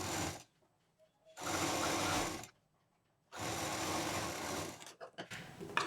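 A sewing machine runs in two long, loud bursts with pauses between, stitching a 2.5-inch strip onto a patchwork bag, then stutters into short uneven runs at the end.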